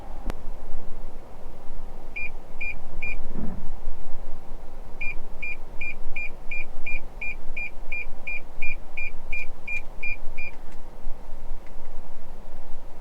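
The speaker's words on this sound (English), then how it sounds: "I didn't feel the car braking for me, it just chimed." A 2021 Toyota Yaris Cross Hybrid sounds its collision warning while driving: three quick beeps, a pause, then a long run of evenly spaced rapid beeps, all over a steady low rumble of cabin road noise.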